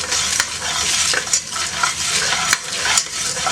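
Red chillies and curry leaves dry-roasting in a pan for temple-style kadamba sambar, a steady close scraping stir with light crackle and a few sharper clinks of the spoon against metal, no voices.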